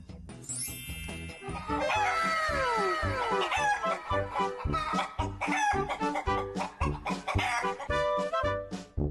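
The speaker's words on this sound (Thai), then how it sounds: "เจอกับไก่กุ๊ก ๆ ตัวเป็น ๆ" A live chicken delivered from a fried-chicken shop clucks and crows loudly and close, with repeated squawks and rhythmic clucking over a steady background of music-like tones and some movement noise.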